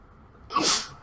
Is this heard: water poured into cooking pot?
no